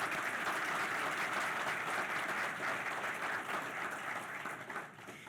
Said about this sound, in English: If you'll join me with your applause in honoring them.